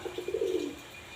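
A kala sakha pigeon gives a short, soft coo, a quick stuttering run of notes rising into one drawn-out tone, faint and close, lasting about a second.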